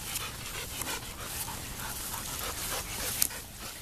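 A rescue Labrador puppy pants steadily and fairly close, a quick rhythmic breathing that runs through the whole stretch with no talk over it.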